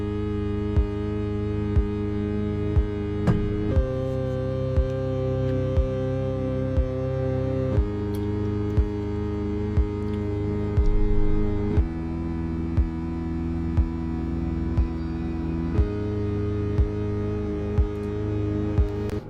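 Opening of a composed game music track for The Rise of the Golden Idol DLC: sustained synth chords shift every few seconds over a deep low pulse, with soft regular percussive ticks, moderately quiet and steady, no voices.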